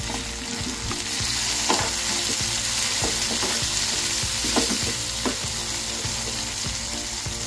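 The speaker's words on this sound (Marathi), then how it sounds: "कांदा थोडा भाजत आला की त्यामध्ये एक छोटा टोमॅटो टाकायचा, तो हलवून घ्यायचा।" Chopped onion and tomato fry in a pan with a steady crackling sizzle, while a spoon scrapes and clicks against the pan in irregular strokes, close and continuous.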